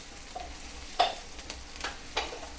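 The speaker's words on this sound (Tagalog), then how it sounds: "ibutang ko na ang sibuyas" Onions frying in cooking oil, a quiet constant sizzle broken by a few brief scraping stirs, heard close without any talking.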